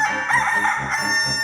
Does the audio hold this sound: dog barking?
no